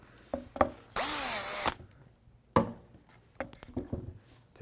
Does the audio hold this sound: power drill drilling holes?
yes